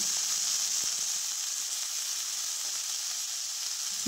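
Chopped cabbage hits a hot pan of chickpeas and potatoes being cooked for a spicy vegetarian cabbage curry, giving a steady, loud, close sizzle that runs unbroken throughout without any talking.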